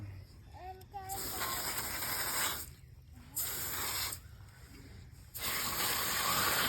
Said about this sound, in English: Rinsing it off real good.